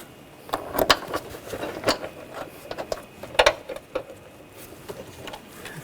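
A wrench tightens bolts on the water pump pulley of a 2000-2006 BMW X5 3.0L inline-six, giving a series of close, irregular metallic ratcheting clicks and taps that come in bursts, with no talking.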